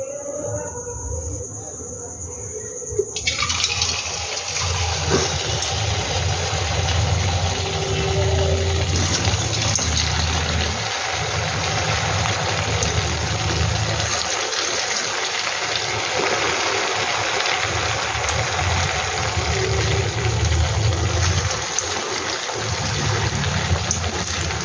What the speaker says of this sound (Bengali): এগুলো কিন্তু একটু ধৈর্য নিয়ে বন্ধুরা আস্তে আস্তে ভাজতে হবে।